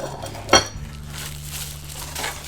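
A ceramic cactus-shaped lid from a home-fragrance simmer pot gives a single bright clink as it is lifted and set down, followed by quiet room tone.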